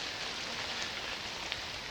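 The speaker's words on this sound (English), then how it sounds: "I apologize for the sound of the rain." Steady rain falling outdoors, a constant broadband hiss of drops with no clear pauses, fairly loud and continuous throughout with no talking.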